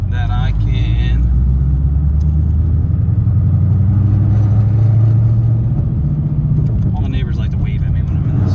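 A Ford Mustang S550 with long tube headers idles with a deep, steady low rumble throughout, with brief higher noises at the start and end and a voice speaking over it.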